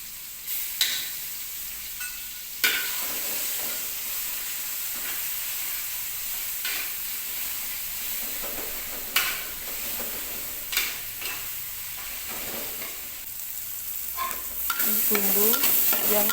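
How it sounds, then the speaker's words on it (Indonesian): Rendang spice paste sautéing in a pan, a steady sizzle and fry with repeated scraping stirs and occasional sharper knocks of the utensil against the pan, with no talking. "Bumbu yang kita tumis sampai bumbunya itu mateng dengan sempurna"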